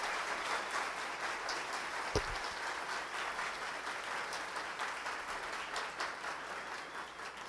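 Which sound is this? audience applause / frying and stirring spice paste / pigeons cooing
audience applause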